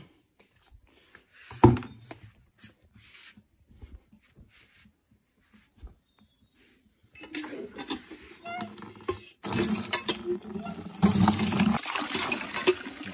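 Water pours and gushes as a container fills for a cow's bath, quiet at first, then a rising, steady rushing stream that grows louder toward the end.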